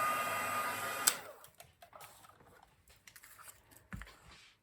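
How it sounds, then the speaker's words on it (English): A heat tool blows steadily on the back of a bowed card to flatten it, a close hiss that cuts off after about a second, followed by faint handling clicks and taps. "I am going to go and put some heat on it from the back, and it'll flatten it out"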